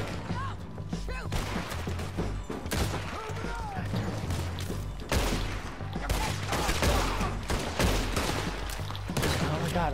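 Rapid bursts of gunfire in Red Dead Redemption 2, with dense overlapping shots and volleys running throughout, loud and continuous, with a voice shouting over parts of the fight.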